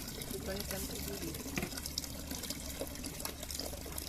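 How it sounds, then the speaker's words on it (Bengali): Water gushes from a freshly opened tap at bath time, a steady, fairly close rushing stream with a voice talking over it. "কলটা খুলে নেই"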